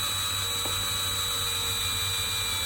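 A power drill whirs steadily at close range while drilling through the body of a car, a continuous high mechanical whine with no pauses.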